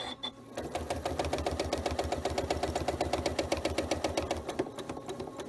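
A sewing machine stitching in the ditch on a quilt with thin 100 weight thread, running in a fast, steady mechanical rhythm of needle strokes, close and continuous after a brief start, with no voices.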